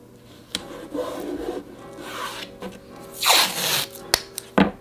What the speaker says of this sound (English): I'm going to tape the edges up because I'm going to do some sanding here.